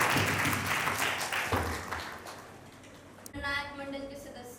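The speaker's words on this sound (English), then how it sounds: "Please give a big round of applause." An audience at an inter-school declamation competition claps for the students, a loud, dense burst of applause that gradually thins, followed by a voice beginning to speak.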